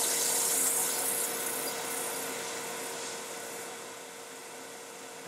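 Wood being sanded by hand with fine 320-grit sandpaper, a steady close hiss of abrasive rubbing that runs unbroken and eases off slightly toward the end.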